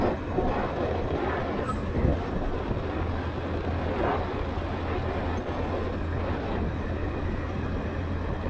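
A train passes near a road in North Bengal, giving a steady, loud rumble with a low droning hum that holds evenly throughout.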